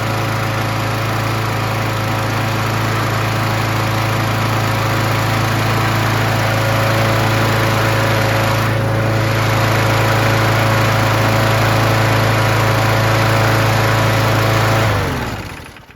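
A Snapper Hi Vac lawnmower engine with a rebuilt motor runs loud and steady, with a constant droning hum that holds for about fifteen seconds and then cuts off abruptly.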